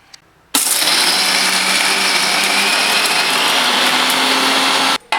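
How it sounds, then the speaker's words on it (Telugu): A mixie jar on a mixer grinder whirs loudly and steadily while grinding kofta masala of cumin, garam masala and coriander powder for mutton kofta curry, starting abruptly and cutting off near the end. "ఇది మొత్తం ఇప్పుడు గ్రైండ్ చేసుకోవాలి."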